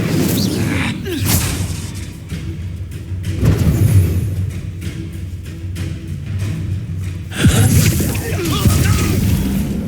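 A fiery spell blast in the Hogwarts Legacy video game bursts out with a loud whooshing boom amid continuous game combat noise, with voices speaking over the action.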